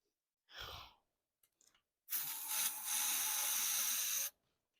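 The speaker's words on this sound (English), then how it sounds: "Probably shouldn't be using brake cleaner, but anyways." Brake cleaner sprayed from an aerosol can into an old Dodge engine, a close, steady hiss lasting about two seconds, preceded by a short breathy puff and a few faint clicks.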